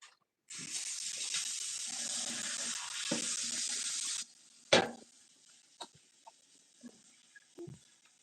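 Running tap water pours steadily for about four seconds as things are washed at a sink, then cuts off, followed by a few scattered knocks and clatters of items being handled.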